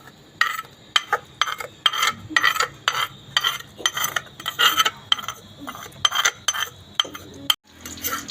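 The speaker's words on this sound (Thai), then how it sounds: "จะคั่วพริกนะครับที่ตำนะครับพี่น้อง อ่า น้ำมันให้มันร้อนๆหน่อยนะครับ" Pounded chili paste for northern Thai nam prik ong stir-fried in hot oil, heard as a steady run of close metal spatula scrapes and clinks against the pan, repeating in quick uneven strokes with no talk.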